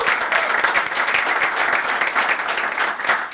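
Steady audience applause greets a guest on an Uzbek comedy talk show, dense and even clapping that carries on throughout without pause.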